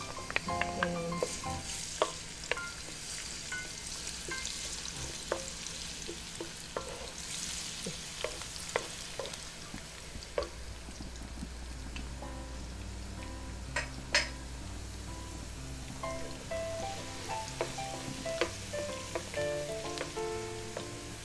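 Minced garlic sizzles steadily in a hot pan for a Filipino pork menudo, a continuous close frying crackle with occasional sharp pops and utensil scrapes throughout.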